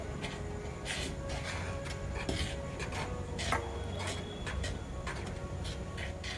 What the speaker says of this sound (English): Now mix all the dry ingredients well